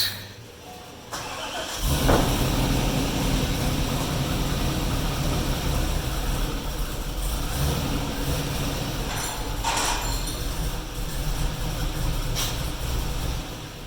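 A Ford Mustang 5.0 on a dyno with a big all-aluminum radiator: after a quiet start, the engine rises into a loud, steady, close-up roar that holds evenly for the rest of the run.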